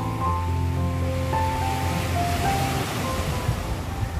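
A rough sea heaves and washes in a steady, broad roar, loud and close, with a few faint tonal hums drifting beneath the surf and no speech.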